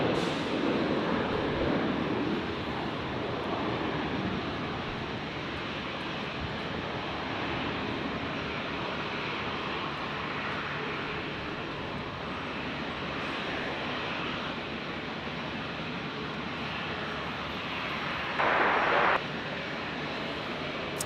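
A Qantas airliner departs Brisbane International Airport bound for Sydney, its jet engines a loud continuous roar that holds steady for about twenty seconds with a brief louder burst near the end, no voices.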